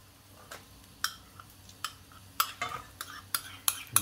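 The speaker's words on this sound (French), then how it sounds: "On surveille toujours les champignons et les remuer." Mushrooms are stirred in a pan for a tuna, mushroom and feta quiche, a faint sizzle under irregular light scrapes and clinks of a utensil against the pan, growing denser toward the end.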